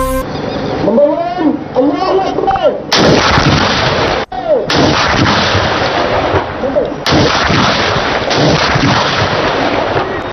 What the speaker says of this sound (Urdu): اسلام آباد میں 31 صوبائی دارالحکومتوں میں 21 توپوں کی سلامی دی گئی۔